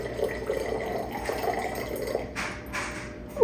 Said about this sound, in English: I'm only pouring most of this water out because it was pretty dirty when I picked him up from the store.